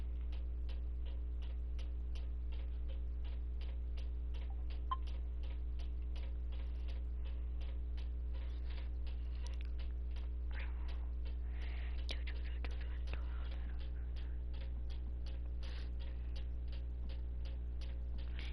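A household electric fan runs steadily, with a constant low hum and drone filling the whole stretch and faint ticking clicks on top, close and moderately quiet.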